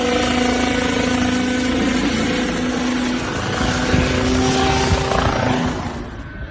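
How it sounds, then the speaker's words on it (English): A homemade helicopter's small engine drones steadily with a rhythmic rotor chop, loud and close, easing slightly near the end. "An elderly man built a homemade helicopter and attempted to fly it without any piloting experience."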